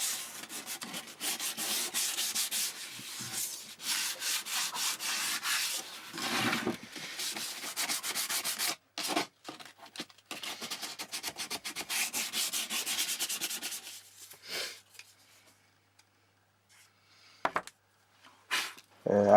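Sandpaper rubbing over the surface of a Darth Vader helmet, a steady scratchy back-and-forth sanding in close bursts with short pauses, thinning into sparse, quieter strokes near the end.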